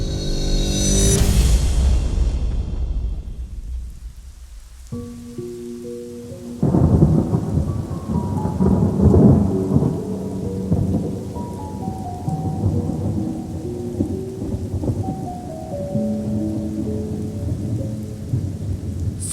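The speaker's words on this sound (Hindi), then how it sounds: "सावन की पहली फुहार, रिमझिम बारिश" A heavy thunder roll opens, then steady rain patters on with distant rumbles while soft musical tones drift in beneath it.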